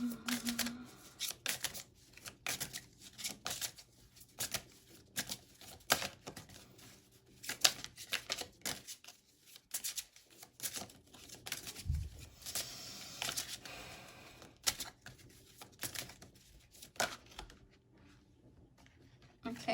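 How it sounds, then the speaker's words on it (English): Tarot cards being shuffled in a quiet room, a stream of soft irregular riffles and taps that runs on for many seconds with brief pauses and some faint handling noise. "They wanted me to keep on shuffling."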